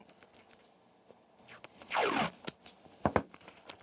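Adhesive paper tape is cut close by with a few quick rasping, scratchy snips and tearing strokes, the loudest near the middle, followed by small handling clicks.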